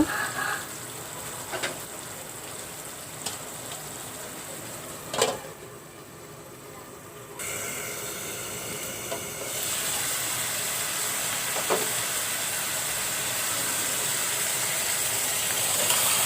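Bottle gourd cooks in its own water in a covered pan, giving a steady, moderately loud hiss and steam noise that rises partway through, with a few faint clicks and no talking.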